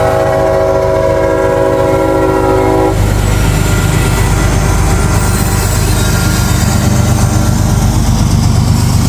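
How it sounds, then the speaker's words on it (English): A freight train led by a shiny locomotive passes close by, its horn sounding a loud sustained chord for the first few seconds before giving way to the heavy roar and rhythmic clatter of the cars rolling past. "that lead locomotive's pretty nice"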